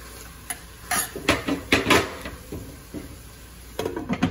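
Pepper strips (rajas) cooking in a pan, covered: a soft sizzle under irregular metallic clinks and knocks of utensil and lid against the pan, some bursts louder than others, close and without speech.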